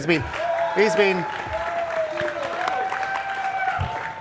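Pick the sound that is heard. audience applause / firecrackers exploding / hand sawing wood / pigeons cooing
audience applause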